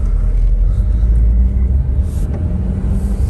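Volkswagen Vanagon Tristar Syncro Doka pickup driving on the road, a steady low engine rumble with road noise throughout, close and loud, with no talk.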